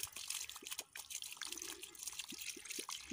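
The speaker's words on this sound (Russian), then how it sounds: "Ага, вот пошла. Ой, горячая водичка." Hot water runs from a tap in a light, steady trickle with scattered drips and splashes, fairly quiet and close, no talking.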